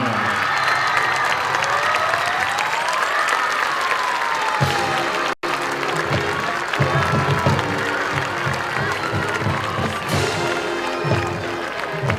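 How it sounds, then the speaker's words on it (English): Sustained crowd applause and cheering from spectators at a high school varsity football homecoming between Wadsworth and Brecksville-Broadview Heights, loud and continuous with scattered shouts, a brief dropout midway, and low rumbling crowd noise underneath. "one more big round of applause for our King and Queen"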